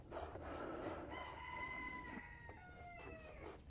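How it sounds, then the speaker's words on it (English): Chickens nearby, a rooster crowing in long drawn-out calls with clucking mixed in, moderately loud over a steady background murmur, repeated several times in a few seconds. "Them damn chickens, I swear."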